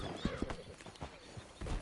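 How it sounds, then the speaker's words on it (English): Horse hooves clip-clopping in the Western open-world game Red Dead Redemption 2, a soft uneven series of hoof strikes under a dense, noisy ambient backdrop. "Get on the horse when you're ready."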